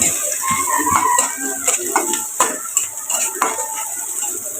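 Onion, garlic and green chilli fry together in a pan for a jackfruit-seed dish, a close hiss with repeated sharp clinks and scrapes of a utensil stirring against metal.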